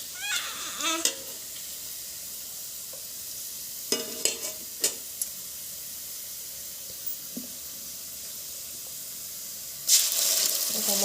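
Onions and masala frying in a pan for a desi chicken curry, with a steady sizzle, scattered scraping clicks of stirring and a brief running-water burst near the end.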